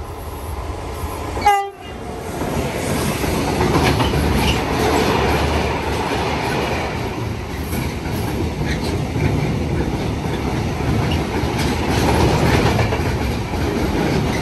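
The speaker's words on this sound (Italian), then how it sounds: "Attenzione! Treno in transito al binario 1, allontanarsi dalla linea gialla." A train passes straight through a station in Anzola Emilia, sounding one short, loud horn blast before the steady roar and clatter of wheels and wagons runs on for a long stretch.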